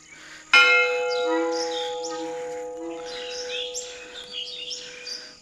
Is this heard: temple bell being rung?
yes